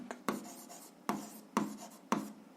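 Pen strokes on paper as a physics formula for the force of gravity is written down: four distinct, sharp scratchy bursts at uneven intervals, close and clear, with no speech.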